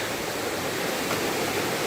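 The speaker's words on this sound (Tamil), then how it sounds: "இங்கே ஏதோ ஒரு அருவி ஓடிட்டு இருக்கு" Steady rushing water of a waterfall on the Kottakudi river in Theni, India, a continuous broadband roar with no pauses, fairly loud and close throughout.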